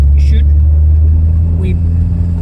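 A Volvo 940 Turbo with the B230 FT engine, being driven for speed on a winding road. A loud, steady low engine drone fills the cabin while someone speaks briefly over it twice.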